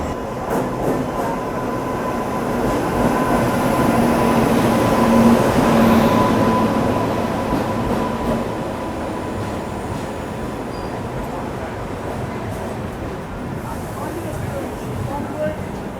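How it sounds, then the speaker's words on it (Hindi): The Central Railway 22221 Rajdhani Express pulls into platform 5 at Bhusawal Junction with a steady, loud rolling rumble of wheels and carriages that swells and then settles into a sustained drone. Voices are faintly audible in the background. "अपनी ट्रेन का अराइवल होने वाला है भूसावल जंक्शन के प्लेटफॉर्म नंबर 5 पर। तो चलिए दिखाते हैं आपको ट्रेन का अराइवल।"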